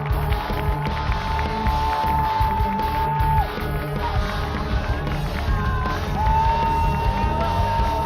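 Spectators cheer and whoop at the 2005 UPA college women's ultimate frisbee final between Washington and Stanford, a steady crowd roar with whistle-like tones, heard from a distance.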